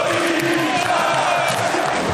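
A large football crowd of more than 68,000 roars at Maracanã stadium during a Copa do Brasil match, with Corinthians fans among them, making a dense, continuous wall of cheering and chanting throughout.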